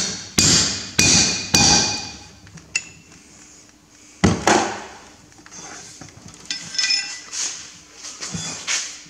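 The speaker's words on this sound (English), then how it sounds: "Now, what I like to do is bring a cold chisel down in and try and split it." Hammer blows on a cold chisel splitting a rear axle bearing on a Massey Ferguson 135 tractor, sharp metallic strikes in a quick cluster of three, then a few more spaced hits with lighter clinks between them.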